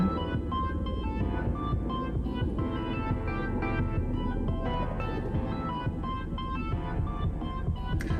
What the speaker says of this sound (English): I have a helicopter flying above me, which is making a lot of noise